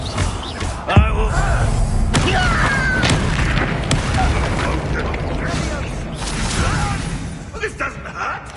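Explosive spell blasts in the video game Hogwarts Legacy, a sharp boom near the start followed by dense rumbling crashes and mechanical clatter throughout, with game sounds layered under the action.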